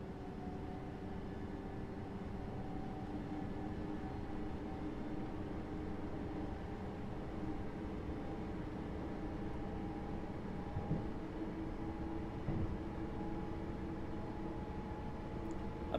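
A train rolls along the Medway Valley Line in rainy evening weather in Train Sim World 6, giving a steady, even rumble and hum with a few faint clanks, and no voices.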